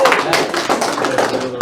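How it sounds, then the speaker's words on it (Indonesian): A class applauds in a short burst of clapping, with quick hand claps close by and voices mixed in. "Oke, tepuk tangan dulu dong."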